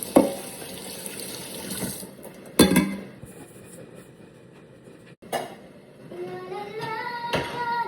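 Tap water runs steadily into a kitchen sink during dishwashing, with glass and dish clinks and brief splashes breaking the flow; no one speaks.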